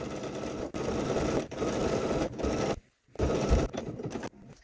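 A sewing machine stitches the casing around a bodice sleeve, running in steady bursts of close, even whirring with short pauses between runs and no talking.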